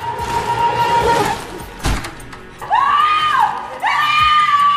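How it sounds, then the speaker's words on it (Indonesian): A girl screams hysterically in a horror film, loud rising and falling shrieks in two long bursts near the end, after a stretch of noisy crowd-like sound and a brief thud. "Spontan Sarah menjerit histeris sehingga Cecep dapat menemukannya dengan mudah"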